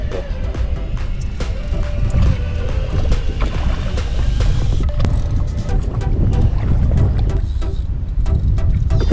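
Strong, stormy wind roars continuously and loudly at a carp-fishing spot by the water, buffeting the microphone with gusty rushing noise.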